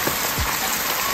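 Bamboo shoots stir-frying with salt and pepper in a pan, giving a steady, dense sizzle with crackling like rain, heard close and continuous, with light knocks of a utensil.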